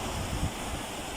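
Ocean waves breaking on a rising tide, a continuous roaring surf wash with a slight swell in the middle, mixed with wind buffeting the microphone.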